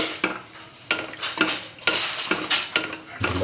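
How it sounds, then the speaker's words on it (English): Ingredients are sautéed and mixed in a pan with rhythmic scraping strokes of a utensil about every half second, each followed by bursts of close, loud sizzling. "Saute thoroughly"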